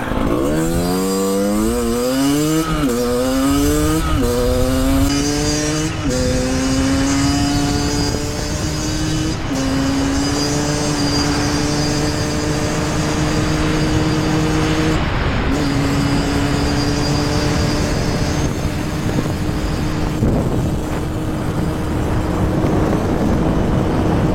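A motorcycle fitted with a Turbokit exhaust revs hard at full throttle, its engine note climbing in stepped rises and holding high, loud and close for the whole stretch with no talk.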